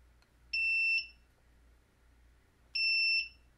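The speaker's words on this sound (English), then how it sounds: "When the batteries discharge below what the inverter thinks is safe, it will start to beep as a warning" A UPS inverter gives low-battery warning beeps, two clear high electronic tones about half a second each, spaced roughly two seconds apart over a faint low hum.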